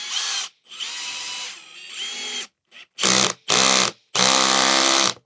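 Makita DHP485Z cordless drill driving a 6 mm screw, heard as loud, close motor whirs in several bursts, with short runs first and then three firm pulses separated by brief pauses.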